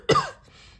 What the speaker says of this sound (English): I don't know why I'm coughing when I say that.